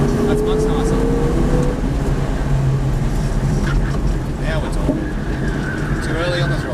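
A V8 Supercar engine roars steadily as it accelerates around the Norwell Motorplex race track, a dense, continuous mechanical drone heard close up, with someone talking over it throughout.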